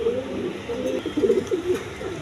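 Pigeons coo in low, throaty, rolling bursts close by, several overlapping calls with faint background voices.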